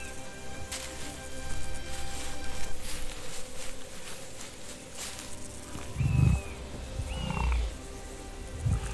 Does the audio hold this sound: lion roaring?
yes